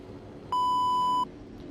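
A single clean electronic notification beep sounds for under a second in a V8 Supercars racing video game at Zandvoort, a steady tone over low background noise.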